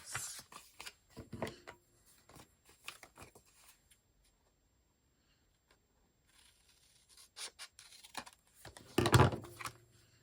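Quiet snips and rustles of scissors trimming paper for a layered pocket folio craft project, in scattered short bursts with a pause in the middle and a louder cluster near the end.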